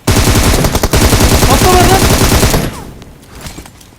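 Loud, rapid automatic gunfire from a shooter video game rattles continuously for about two and a half seconds, then cuts off to quieter game sounds.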